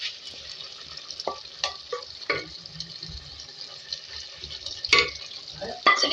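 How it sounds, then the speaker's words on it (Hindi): Fried okra (bhindi) being stirred into vegetables cooking in a pan with potatoes, flat beans and ridge gourd, giving a soft sizzle and scraping clinks of the spoon against the pot. "इसमें जो है हम ऐड करेंगे फ्राई की हुई भिंडी"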